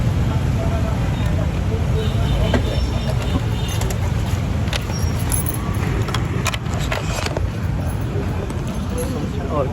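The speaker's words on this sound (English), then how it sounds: "at the gas station right now" Traffic passing a gas station in Cambodia: continuous engine rumble from nearby vehicles with occasional metallic clinks and taps, while voices talk over it.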